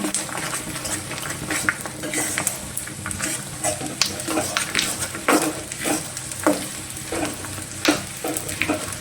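Edible gum frying in a pan of ghee while making semolina sukhdi, a steady close sizzle with frequent scraping stir strokes and spatula clicks throughout, with no speech over it.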